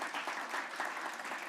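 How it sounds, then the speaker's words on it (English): Audience applause at a business energy summit, a steady, dense round of clapping from a crowd, sustained evenly throughout with no break. "Let's give them a round of applause."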